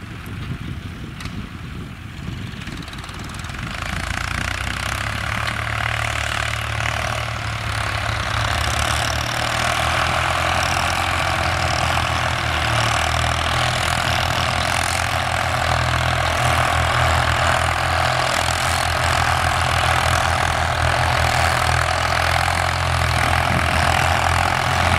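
A Ford 4000 tractor with a 55 HP, 3.3-litre three-cylinder diesel plows a rice paddy field, its engine rising to a loud, steady, continuous drone that holds unbroken throughout.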